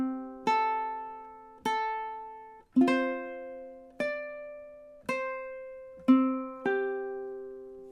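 Ukulele picking measures 23–24 of a song, a slow series of seven clear plucked notes and chords, each ringing out and fading before the next, played alone and close.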